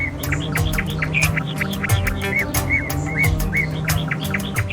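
Large bird chicks chirp from a nest in a rapid, repeated series of sharp tweets, close and continuous over a low background hum.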